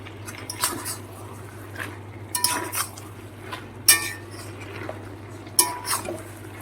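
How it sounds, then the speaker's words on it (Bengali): Fried prawns tipped into a Malabar spinach (pui shak) curry and stirred, giving a few sharp clinks of utensil on pan and soft wet scraping over a steady low hum. "এবার আমি এর মধ্যে ভেজে রাখা চিংড়ি মাছগুলো দিয়ে দেবো"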